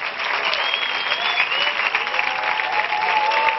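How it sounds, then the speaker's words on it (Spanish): A studio audience at a comedy show gives comedian Juanra Bonet a strong round of applause, a dense, even wash of clapping that holds steady throughout, with faint tones of stage music beneath it. "Muchas gracias y fuerte aplauso, por favor, para Juan Rabonet."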